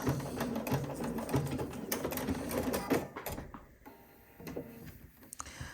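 A sewing machine stitches the corners of a Cashmerette Haskell shirt, a rapid ticking run of needle strokes that slows and then stops before resuming in short, quieter bursts.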